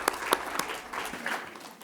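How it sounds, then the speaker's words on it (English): An audience at a national and President's Awards ceremony applauds the award recipients, with a dense burst of clapping that starts loud with a few sharp claps and then carries on steadily for a couple of seconds. "So a final round of applause for all of our President's Awards recipients."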